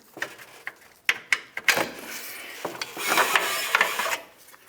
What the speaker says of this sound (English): Go ahead and get the bolts out of here.